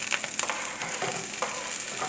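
Carrots sear in a hot pan for a pot roast, giving a steady, close sizzle with small crackles and spits throughout.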